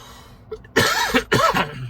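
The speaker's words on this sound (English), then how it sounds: "Sorry for the coughing." Two short, harsh coughs from a person with allergies, close to the mic, each a rough burst, separated by a brief pause, with a quiet lead-in before them.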